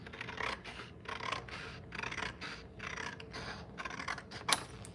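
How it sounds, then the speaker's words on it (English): Scissors snip and slide through paper for custom princess party decor, a steady run of crisp, close cutting strokes with short pauses between them and no talking. "The sound of the scissors cutting, right?"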